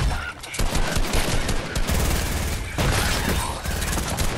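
Rapid bursts of gunfire in the video game Fortnite, dense repeated shots with short gaps, loud and close, with a brief voice mixed in.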